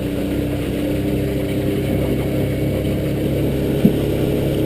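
A 2003 Alumaweld 15' Stryker motorboat engine runs at high speed, about 4,000 RPM, bringing the boat up on plane, steady and droning, loud and close, with a brief knock near the end and no talk.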